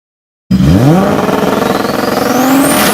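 A turbocharged car engine revs hard right from the start, loud and close, with a rapid fluttering chatter from the turbo running through the rising and falling engine note.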